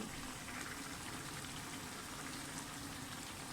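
Ghee poured into a simmering beef karahi whose meat is almost tender, giving a steady, dense sizzle and bubbling crackle that runs evenly throughout at moderate closeness, with no talking.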